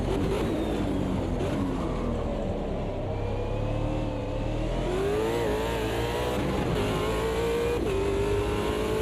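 Loud, close race car engine in the Automobilista 2 sim, droning steadily while pitch climbs through acceleration and dips at shifts, with no voices over it.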